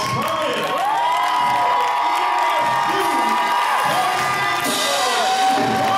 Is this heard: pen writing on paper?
no